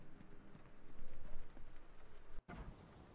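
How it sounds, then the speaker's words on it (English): Steady rain pours in the Sherlock Holmes The Awakened video game, a continuous dense hiss that briefly cuts out near the end before resuming, with no talking. "Just send us out into the rain"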